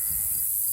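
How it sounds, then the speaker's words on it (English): Sheep flock bleating out on a rotationally grazed farm pasture, a low rumbling bleat from nearby animals over a steady outdoor wind hiss, brief and continuous. "Getting a little view of some of our sheep flock here."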